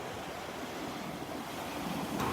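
Ocean surf rolls steadily onto the beach at Delnor-Wiggins on a cloudy day, a continuous loud wash of waves with wind and no voices.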